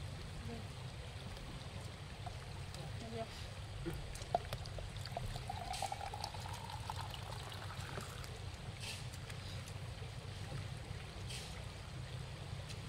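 Steady, gentle rush of flowing water fills the background throughout, soft and continuous with faint trickling detail.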